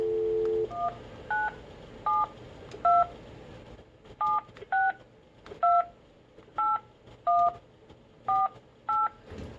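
Telephone keypad tones ring out on a speakerphone, about a dozen crisp, evenly spaced beeps in quick succession after a short dial tone, loud and close.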